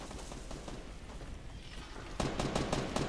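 Rapid automatic gunfire aimed at zombies in a video game, a rattling stream of shots that grows noticeably louder and denser partway through.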